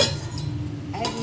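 A metal lid lifted off a pot of simmering gongura (sorrel leaf) chutney gives two close, bright clinks, one at the start and another near the end, over a low steady background.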